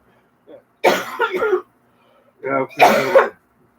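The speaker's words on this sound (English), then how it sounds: "I'm coughing so bad." Two bursts of harsh coughing, the second a rough fit of several hacks, close to the microphone with a brief pause between them.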